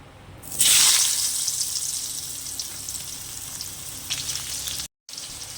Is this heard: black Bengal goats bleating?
no